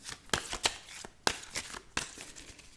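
A deck of tarot cards shuffled by hand in a few sharp riffling bursts, close and fairly quiet, with short pauses between each shuffle and no talking.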